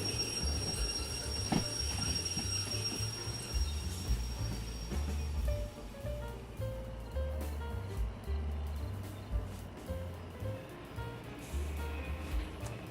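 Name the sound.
shunting train wagons in a train video game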